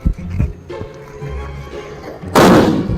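A firecracker goes off in a village street with a sudden loud, broad blast near the end, after a stretch of low rumbling background.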